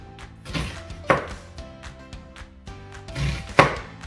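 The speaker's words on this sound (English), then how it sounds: "I'm going to go ahead and just slice it this way from the end I cut off down to the root" A knife slices a quartered onion on a cutting board, making a few dull, separate chopping taps at an unhurried pace against a quiet background.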